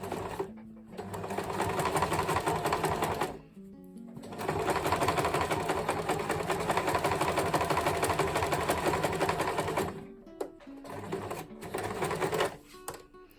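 A domestic sewing machine stitches a zip into a fabric seam, including a reverse stitch. It runs in close, steady whirring bursts separated by short pauses, with a few brief stops and restarts near the end.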